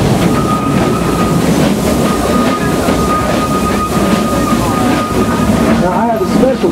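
A loud, steady rumble of the Frisco Silver Dollar Line train rolling along the rails with a constant hum and faint rattling, continuous throughout with a voice briefly heard near the end.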